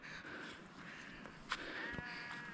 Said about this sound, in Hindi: ये पूरा जी भेड़ बकरियों का रेवड़ और हवातीन है जो इनको चरा रही हैं मैदानों में